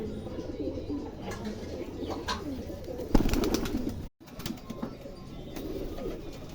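Pigeons coo repeatedly at moderate distance among other bird chirps, with a steady outdoor noise bed, a brief rustle or flutter midway and a momentary dropout near the middle.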